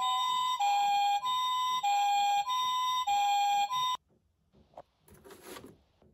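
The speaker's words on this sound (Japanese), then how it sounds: "救急車を坂道に走らせるよ" Toy ambulance siren wailing in a steady two-tone pattern for several loud cycles, then cutting off abruptly, followed by faint clatters and a brief rattling rush as the toy rolls down a slope.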